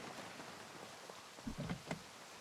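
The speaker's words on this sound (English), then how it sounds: "The rain's coming down hard." Heavy rain in Project Zomboid, a faint, steady hiss of rainfall with a few soft thuds and knocks near the end.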